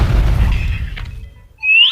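A deep, heavy bomb explosion in the video game Tom and Jerry: Chase booms and fades over about a second, followed by a sharp rising whistle-like squeal.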